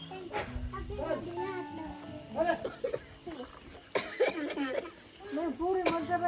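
A few sharp coughs break through lively children's voices and chatter nearby, with a Labrador's faint bark in the background.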